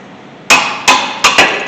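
Metal tool striking while removing a brake caliper bracket bolt with a 17mm tool on a 2013 Honda Civic, four sharp loud close clanks in quick succession, each ringing briefly.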